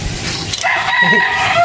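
At a game fowl farm in Batangas, a rooster crows loudly and close, a single drawn-out call over a rough background of farm noise.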